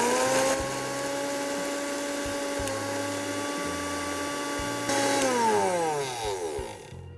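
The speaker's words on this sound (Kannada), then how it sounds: "ಮಿಕ್ಸಿ ಮಾಡ್ಕೋತಾ ಇದ್ದೀನಿ" An electric mixer grinder blends small onion pieces into a paste, a steady humming motor whine with a continuous grinding rattle that runs for several seconds before the motor spins down and fades.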